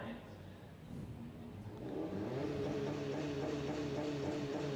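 Sports compact drag cars at the Garrett Brisbane Jamboree 2024 qualifying in Australia, engines building from a low rumble into a loud, steady roar as they launch and pull away down the strip.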